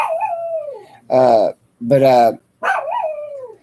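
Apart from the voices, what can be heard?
dog barking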